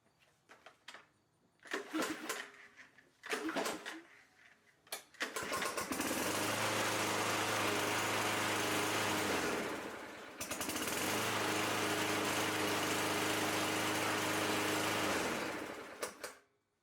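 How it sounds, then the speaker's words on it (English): A Yardmax YG165 lawn mower is started by pull rope: a few short rasping pulls of the recoil cord, then the engine catches and runs loud and steady, dips briefly, and roars on until cut off. "To start machine, hold stop start lever located on the handlebar. Now pull rope out."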